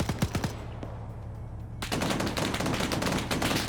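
An M2 machine gun firing in a video game, a loud rapid stream of shots that thickens into continuous heavy fire for the second half.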